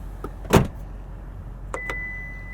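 Power tailgate on a 2019 Lexus LX 570 two-row SUV closing: a single loud motorized swoosh and thud near the start, then two light clicks and a faint steady electric whine after, heard up close with no talking.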